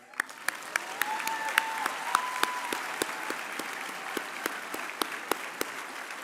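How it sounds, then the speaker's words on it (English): Sustained applause at an honorary doctorate conferral ceremony, with a steady wash of clapping and sharp, regularly spaced louder claps standing out near the front across the whole stretch. "We can clap."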